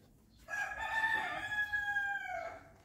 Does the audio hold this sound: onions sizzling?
no